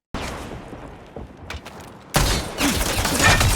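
Gunfire in the first-person shooter Highguard: a few faint shots at first, then from about two seconds a loud, dense burst of continuous firing that fills the rest of the clip.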